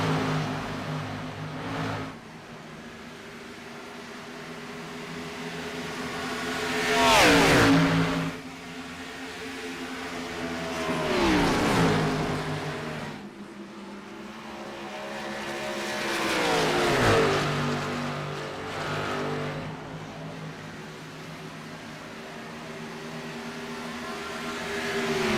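Stock cars racing on a track in a Cup Series race, engines droning steadily as packs of cars roar past in three loud swelling passes with falling pitch, fading between each.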